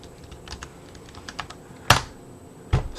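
Soft, quick keystrokes on a computer keyboard as a password is typed, with two louder key presses near the end. The taps are close and there is no talk.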